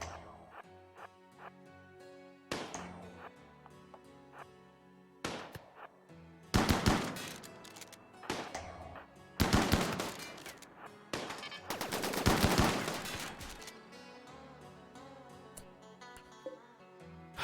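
Light machine gun fire in a video game, heard as rapid bursts of automatic shots that start and stop repeatedly, loud and close, with the heaviest sustained bursts in the middle of the clip.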